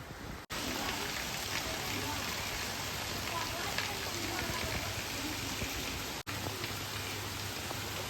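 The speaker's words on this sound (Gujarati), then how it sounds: "તો ગાઈઝ ફરીથી વરસાદ ચાલુ થઈ ગયો છે ફૂલ, અને એકદમ જોરદાર વરસાદ પડે છે પાછો." Heavy rain pours down steadily in Palanpur during an overnight downpour, a loud dense wash of drops on surfaces that continues unbroken, with a faint low hum beneath.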